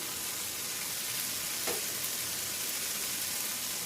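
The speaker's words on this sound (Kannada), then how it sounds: "ಇದನ್ನ ಲೈಟಾಗಿ ಫ್ರೈ ಮಾಡ್ಕೊಳ್ಳೋಣ" Cashews, coriander powder and mint fry with cinnamon, cloves, cardamom and bay leaf for a palak paneer gravy. A steady, close sizzling hiss runs throughout, broken once by a faint tap of a utensil.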